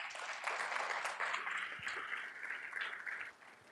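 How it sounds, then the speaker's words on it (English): A meeting crowd claps for a retiring staff member, a fairly quiet, distant round of applause that holds steady for a few seconds and then thins out toward the end. "So if we give her a round of applause."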